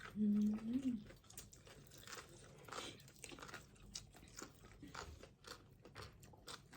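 Som tam papaya salad with pla ra is chewed and crunched close up in soft, irregular bites, with a voice briefly heard at the start and quiet talk through the eating.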